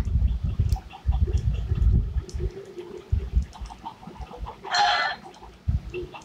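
Chickens cluck and murmur close by amid low rumbling handling noise, with a louder squawk bursting out near the end and scattered softer clucks around it.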